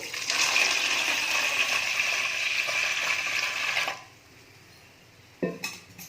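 Water pours steadily into a metal pot of lentils for about four seconds, then stops; a brief clatter of cookware follows.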